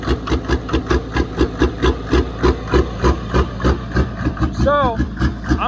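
A Mercedes OM606 diesel engine fitted with the Evry mod idles with a steady, rhythmic knocking pulse, close and loud, and its revs lift briefly near the end.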